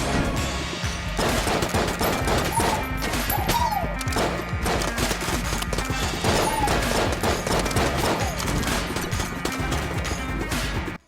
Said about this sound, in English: Guns everywhere, all the time, on everything.